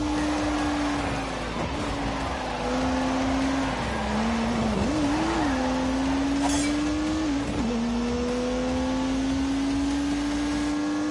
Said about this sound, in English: unleashed 365 rampaging horsepowers from the turbocharged 3-litre straight six